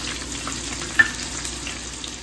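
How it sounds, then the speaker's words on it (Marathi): Green chilies fry in a little oil in a pan, giving a soft, steady sizzle close by with one faint clink of a utensil and no talking. "हिरवी मिरची यामध्ये टाकून छान परतून घेऊयात."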